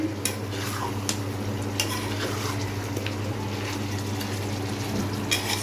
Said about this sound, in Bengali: এখন আমি একটু দিয়ে সুন্দর করে নাড়াচাড়া দিব